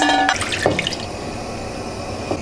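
Water is poured into a cooking pot holding pork, bay leaves and onion. A steady splashing pour is close and fairly loud, and a few drips follow as the flow dies down.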